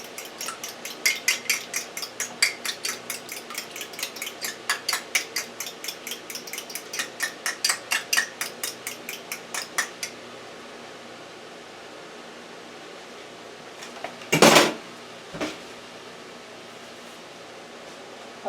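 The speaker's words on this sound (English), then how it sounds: "I'm going to beat the eggs up actually." Two eggs beaten together in a bowl with a utensil, about ten seconds of quick rhythmic clicking strokes against the bowl. Quiet follows, then a louder knock and a faint tap near the end.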